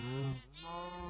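A Minecraft sheep bleats, a single clear wavering bleat with a brief break, heard alone and fairly faint.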